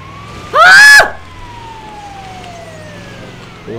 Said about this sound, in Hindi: मैं भी एम्बुलेंस का साइरन बजा देता हूँ।